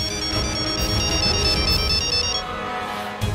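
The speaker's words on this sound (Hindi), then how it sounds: "फोन बजा है।" An electronic phone ringtone chimes in a repeating bright melody for a couple of seconds over a busy background, then cuts off.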